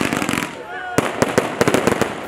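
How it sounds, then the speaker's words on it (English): Christmas fireworks burst over the night sky of Opaiweka in Anambra, Nigeria: a string of sharp, loud cracks and bangs pops in irregular quick succession over a noisy crowd, with a whistle rising just before the first big burst. "Christmas in Anambra is a carnival of color and fireworks that starts with glorious blast into the night skies of Opaiweka."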